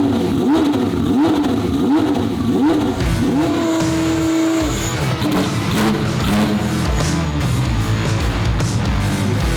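A twin-turbo Ferrari F12 engine revs on a dyno under load. Its pitch climbs and falls in repeated sweeps, then holds steady, with a loud, continuous roar throughout.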